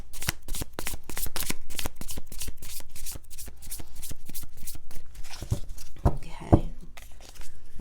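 Tarot cards are shuffled by hand before a reading, making rapid, close riffling flutters in a steady rhythm, followed by a few softer slaps and taps as the deck settles.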